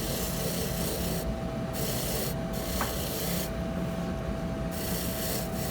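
A watch case being polished to rub out scratches gives a close, steady dry rubbing hiss that pulses in short strokes, with one brief tick partway through.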